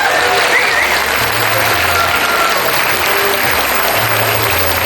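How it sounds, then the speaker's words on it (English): A crowd at an outdoor rally for trans youth breaks into loud, sustained applause, a dense, even roar of clapping that holds steady throughout without any clear speech. "Round of applause for Robin's courage for writing that for me"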